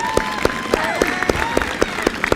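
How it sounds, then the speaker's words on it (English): Applause at a tech graduation ceremony, crowd clapping with one nearby pair of hands striking in a steady, evenly spaced beat over the general patter, while a tone and faint voice drift underneath. "give him a big round of applause because he's such a great sport"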